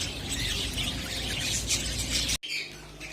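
Many small birds chirping and squawking together in a busy steady chorus at close range, continuous with a brief dropout near the end and no talking.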